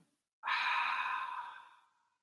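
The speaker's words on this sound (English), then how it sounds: "Breathe in through the nose. Open mouth, exhale." A single long open-mouth exhale during a yoga breathing exercise, close and soft, rising sharply after a brief silence and fading out gradually over about a second and a half.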